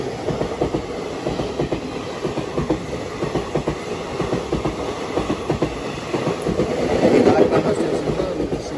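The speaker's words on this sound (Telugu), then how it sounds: "ఒక ట్రైన్ వాళ్ళ ట్రైన్ని ఓవర్టేక్ చేస్తుంది." An express train on the adjacent track rumbles past, overtaking a stopped train, with continuous rhythmic clatter of wheels on track, growing louder toward the end.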